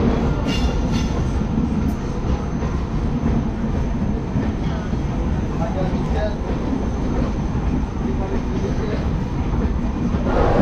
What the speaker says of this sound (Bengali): পাশ দিয়ে যে ট্রেনটি আছে এটা হাওড়া মুম্বাই গীতাঞ্জলি এক্সপ্রেস, যেটা এইমাত্র ছেড়ে যাচ্ছে